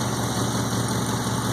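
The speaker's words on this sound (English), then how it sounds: "You can kind of hear it's got an exhaust leak over here." A 1965 Ford F250 with a swapped Lincoln 460 big-block V8 idles steadily with a leaking exhaust collector, a loud, close, continuous rumble without talk.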